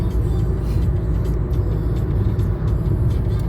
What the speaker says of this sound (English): But one thing I don't like about downtown is traffic.